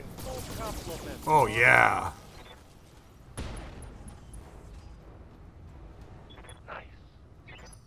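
Weapons fire from mechs in the Roguetech battle game: a dense burst of rapid blasts and booms, then a single sharp impact and a few fainter hits, with a voice briefly reacting over the gunfire.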